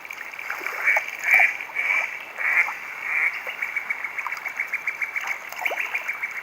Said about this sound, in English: Two little ducks.